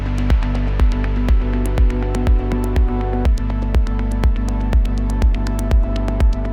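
A punchy electronic kick drum styled on a remix thumps in a steady four-on-the-floor pulse, each hit with a sharp attack and deep but short low end, loud and up front.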